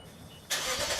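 A Lexus RC F V8 engine fires up at mid-clip, its start bursting through the exhaust system into a loud, full rumble after a quiet half second.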